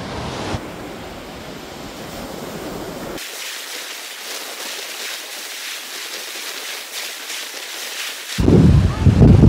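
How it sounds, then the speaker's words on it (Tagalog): Strong sea wind buffets the microphone over crashing waves on a bay shore at San Juan, Batangas, with a steady roar that cuts to wash and surf before a loud gust returns. "Sobrang lakas ng hangin."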